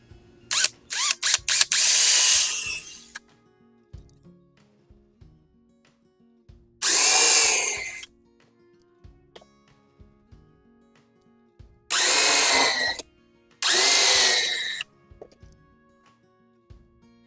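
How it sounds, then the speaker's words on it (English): Four bursts of power drilling pilot holes and screw countersinks in cockpit frames, the first and longest with stuttering starts, separated by quiet pauses with faint handling clicks. "Next step is drilling the pilot hole and making the countersinks for the screw heads."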